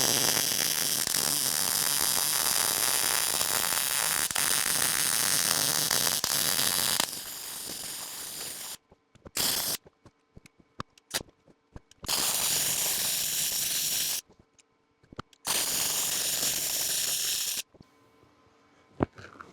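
Wire-feed welder laying a bead on metal, a steady loud crackling hiss running in long bursts, with several pauses and a few shorter bursts between them.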